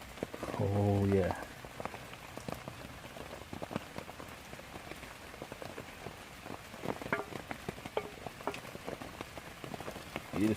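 Pouring rain drums steadily on a Dutch army canvas tent during a solo overnight camp, a dense close patter of drops lasting throughout, with a brief tonal sound near the start.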